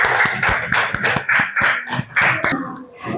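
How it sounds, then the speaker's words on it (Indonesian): Schoolchildren in a primary classroom clap together in a rhythmic pattern, about a dozen sharp, loud, evenly spaced claps in quick succession before tapering off. "tepuk tangan dulu untuk Fatih."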